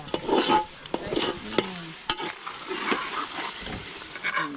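Food fries in a little oil, with close crackling and sizzling broken by repeated scrapes and knocks of a spatula being stirred through the pan, with no talking.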